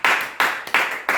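Church congregation clapping in acclamation of the word of God, close and fairly loud, four bright bursts of claps about a third of a second apart, with no voices.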